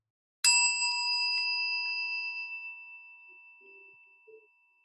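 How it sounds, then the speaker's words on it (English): A single meditation chime struck once, its bright metallic tone ringing alone and decaying slowly over several seconds in a quiet setting for a guided grounding practice. "Allow the sound of the chime to call you to presence."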